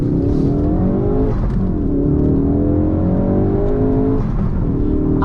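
A Ford Focus RS drives along under steady engine drone with shifting revs, the motor rising and easing as it pulls, close and continuous throughout with no talking.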